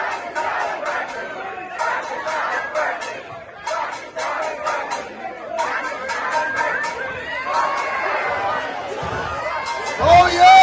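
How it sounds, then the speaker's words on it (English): Crowd at a campus event cheering on a worn-out, failing car, a dense mix of shouts and whoops in bursts with people chattering close by. "They're cheering on somebody's shitbox."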